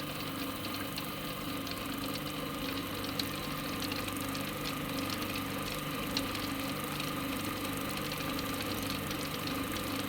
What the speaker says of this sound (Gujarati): ચલો આપણે પહેલાં ચાકડો બંધ કરીએ